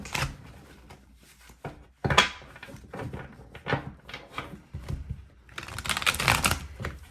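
A tarot card deck is shuffled by hand in quick bursts of riffling and flicking, with short pauses between, and one long, loud run of card shuffling near the end; close and distinct, with no talking.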